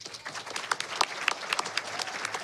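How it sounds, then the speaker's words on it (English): An audience at a youth event breaks into applause, a dense, moderately distant wash of many hands clapping for a couple of seconds, with a few sharper individual claps standing out. "clap that up"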